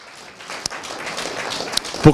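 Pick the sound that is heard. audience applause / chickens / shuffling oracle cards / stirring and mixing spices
audience applause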